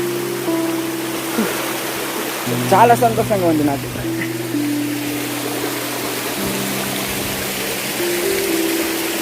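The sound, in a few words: stream of water flowing at adventure spot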